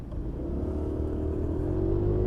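A Yamaha Aerox 155 scooter pulls away hard from a stop. Its loud, close engine drone climbs steadily in pitch as it accelerates, with no talking.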